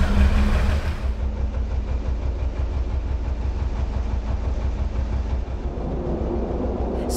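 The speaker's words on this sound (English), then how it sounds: "that roar is the sound of the fans coming on." Extractor fans in the Harecastle canal tunnel roar with a deep, continuous rumble, loud and close, with a low mechanical drone underneath and no voices.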